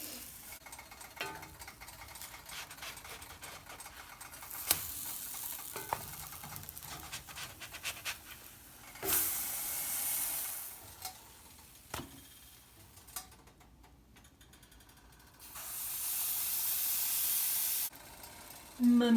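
Pancakes frying in an oiled pan, a hissing sizzle that swells in louder bursts as batter meets the hot surface, with scattered clinks and kitchen clatter nearby.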